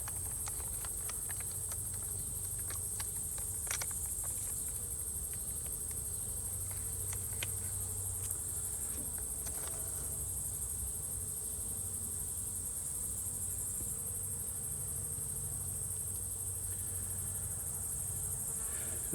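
Honeybees from an August swarm hum steadily around an open hive, a continuous close insect drone with faint scattered clicks and taps, and no talking.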